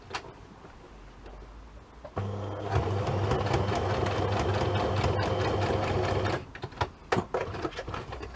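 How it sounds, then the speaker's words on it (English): A sewing machine stitches a tab onto fabric, starting after a couple of seconds of quiet handling, running in one steady, close, rapid mechanical burst for about four seconds, then stopping with a few clicks. "I'm literally just going to sew the tab on"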